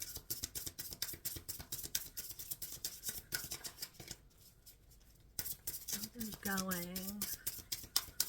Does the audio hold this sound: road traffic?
no